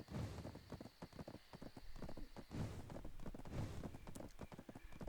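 Horse hooves clip-clop in a steady galloping rhythm while riding a horse in the video game Black Desert, close and continuous with faint background ambience.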